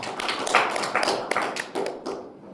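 Audience applause at a conference presentation on a drone ground control station interface, a dense wash of many hands clapping at close to moderate range, steady for about two seconds and then quickly fading out.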